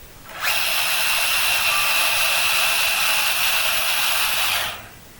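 A LESU 1/14 scale RC truck with a 3-speed transmission runs its electric motor in second gear, giving a loud, steady high-pitched whine. The whine starts abruptly, holds even for about four seconds, then cuts off.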